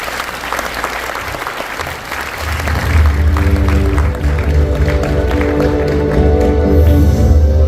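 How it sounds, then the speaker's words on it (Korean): Audience applause at a Korean church world mission conference, a large crowd clapping steadily and swelling louder midway, with no talk over it. "박수 한번 하겠습니다."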